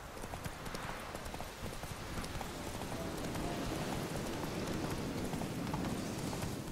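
Horse hoofbeats from riding in The Witcher 3, a steady, dense clip-clop of hooves that runs the whole way through, with no talking over it.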